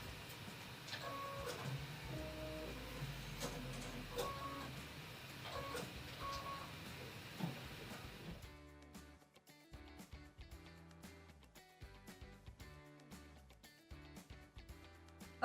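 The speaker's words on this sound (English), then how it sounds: "It's now time to change your thread to red so that you can stitch out the rest of the rocket stripe" An embroidery machine stitches a red rocket stripe detail on an apron, a quiet mechanical chatter of rapid repeating needle strokes with beeping tones, going steadily and then thinning into sparser clicks.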